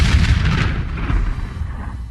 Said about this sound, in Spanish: Cañonazos.